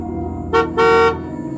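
Two loud blasts of a bus horn, a short toot followed by a longer one, sounding close over a low engine rumble.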